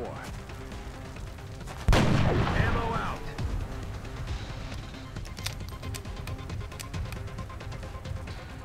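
Gunfire in the video game XCOM: Enemy Unknown, a sudden loud blast near two seconds in that decays over a second, then quieter game sounds and scattered sharp clicks.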